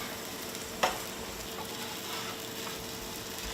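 Rice sizzling steadily in a hot pan after being mixed with Bosnian vegeta spice, a continuous close crackle with one sharp clink near the start, no voices.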